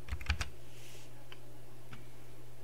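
A few quick keystrokes on a computer keyboard, clustered at the start, then a couple of isolated light taps in a quiet room.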